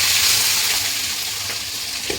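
Onions dropped into hot oil for a desi-style chicken kosha give off a steady, loud, close sizzling hiss that fades slightly but keeps crackling throughout, with no talking.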